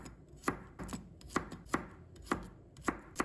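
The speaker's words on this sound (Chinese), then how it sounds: "再准备一把大蒜，把它切成小块。" A knife chops a handful of garlic into small pieces on a cutting board, sharp regular strikes about every half second, close and clear with no talking.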